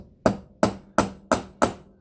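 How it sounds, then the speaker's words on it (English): Five sharp metallic blows from a ball peen hammer striking a rivet on a heat-treated steel block while forming its head, evenly spaced, loud and close, each ringing briefly before the next. "I'm using my hammer to start to create the head of that rivet"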